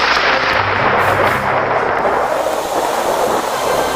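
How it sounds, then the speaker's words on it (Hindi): Loud, continuous thunder rumbles close by, a dense roar of low crackling energy that holds steady without any voices. "सुना चिंटू, बादल गरजने लगा, अब जरूर बारिश आएगा।"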